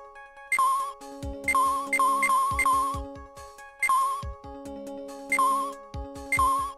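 A phone rings in the Ace Attorney video game, a synthesized ringtone melody repeating in bursts alongside a low bass line and chiming tones.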